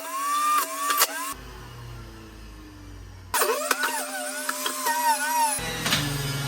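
A small electric juicer's loud motor whirs in bursts, cutting off briefly and starting again, with a rough mechanical grinding underneath.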